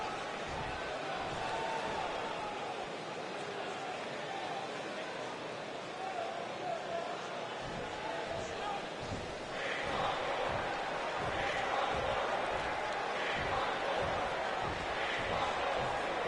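A virtual arena crowd in the WWE 2K19 wrestling game keeps up a continuous roar and cheering, swelling louder in the second half, while a commentator talks over it throughout.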